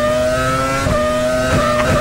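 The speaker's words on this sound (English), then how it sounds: "Are you in an F1 car?" A Formula 1 car in Garry's Mod, its engine roaring loud and steady with a rising rev near the end, backed by a faint rumble.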